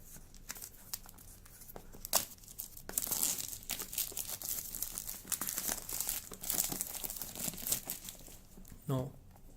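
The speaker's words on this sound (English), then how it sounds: "First of all, let's get rid of this plastic first." Plastic wrap is crinkled and torn off a Realme 2 Pro phone box, producing close, busy crackling and tearing sounds with a brief voice near the end.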